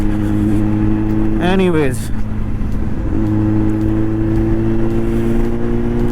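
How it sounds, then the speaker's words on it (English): A Kawasaki Z800 motorcycle with an SC Project slip-on exhaust rumbles steadily at idle, with a quick rising rev burst early on; a voice speaks briefly. "I hope you can hear the exhaust note on this"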